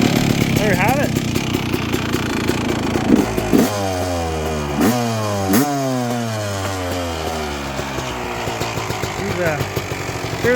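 A cold engine catches and starts, then revs repeatedly in rising and falling sweeps. Its note is rough, loud and close, with clattery idling between the bursts.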